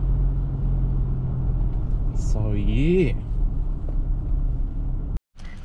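Toyota Hilux engine running while driving, a loud steady low drone with a brief rising whine midway, under a man's short remark, ending with a sudden cut.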